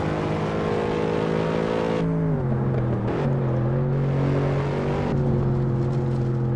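A race car engine in the racing game Assetto Corsa drones steadily and loud, its pitch dipping through gear changes and lifts before settling back to a sustained howl, with no voices over it.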